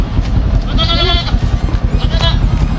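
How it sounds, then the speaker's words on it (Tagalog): A goat bleats nearby in a hometown farm setting, giving a couple of wavering, nasal calls over a low background rumble. "hindi pala, kambing pala ito."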